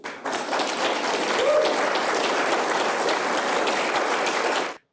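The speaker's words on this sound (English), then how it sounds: "Can you imagine that there's people clapping about this?" Audience applause following a government announcement banning social media for children under 16, dense and sustained for about five seconds, then stopping abruptly.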